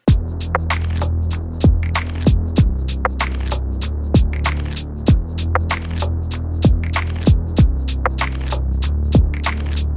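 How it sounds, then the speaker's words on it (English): Lo-fi drum groove with bass, heavily compressed and EQed, plays steadily for about ten seconds with a slightly swung, bouncy feel: punchy kicks and crisp snare hits over a warm, humming low end, no voices. "So I'll just play you the drums with the bass at the moment"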